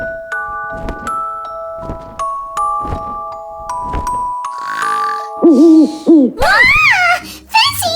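A cartoon owl in a kids' show hoots in a steady series of soft calls, with chiming tinkles and squeaky cartoon voices toward the end.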